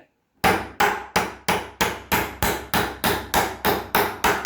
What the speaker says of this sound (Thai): เราก็เอาตะปูตอกด้านล่างขึ้นมาเลย